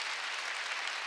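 A church congregation applauds during a year-end worship service, with a short, dense burst of steady clapping that fills the room evenly at moderate loudness.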